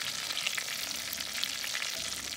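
Onions frying in hot oil, a steady dense sizzle with crackling pops throughout, close and loud, with no voices.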